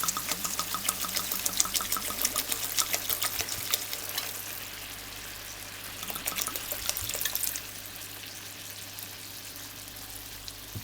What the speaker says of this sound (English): So now it's time for the red wine. So I'm going to add maybe half a bottle.